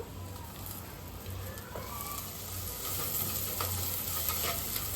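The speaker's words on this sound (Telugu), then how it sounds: "ఉల్లిగడ్డ అయితే ఇట్లా మంచిగా నూనెలో బాగా ఇక నూనెలు ఇట్లా వేగిపోవాలి" Onions fry in oil with ginger garlic paste for a Sunday country chicken curry, a steady close sizzle with light stirring scrapes that grows slightly louder toward the end, with no talk.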